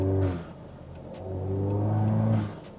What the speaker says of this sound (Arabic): ما شاء الله، اسمعوا صوت التيربو يا جماعة.